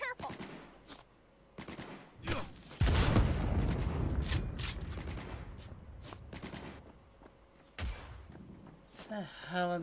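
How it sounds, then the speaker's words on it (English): Repeated gunshots and automatic bursts ring out in the video game Cyberpunk 2077, sharp close cracks and one long loud volley mixed with voices talking between the shots. "the hell are these other shots coming?"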